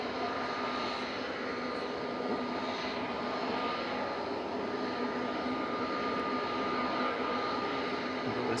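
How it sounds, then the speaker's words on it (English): A jet airliner on approach to Manchester Airport produces a continuous broadband engine roar with a steady whine, holding loud and even throughout with no voices. "Jet on approach."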